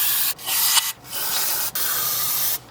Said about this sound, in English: So I'm going to spray stuff with this here brake cleaner down in the holes.